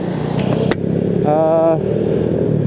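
Motorcycles rumble past on a busy road during the Eid homecoming journey from Surabaya to Tulungagung, a steady close engine drone with a sharp clatter and a brief tonal whine in the middle.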